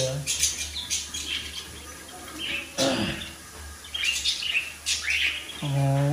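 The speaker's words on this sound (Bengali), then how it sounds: "তো দেখতেই পারলেন কত সুন্দর মিটিং কল করলো এরা" Cockatiels call in a breeding mood, sharp chirps and whistled tweets coming in short bursts, close and fairly loud over a quiet indoor background.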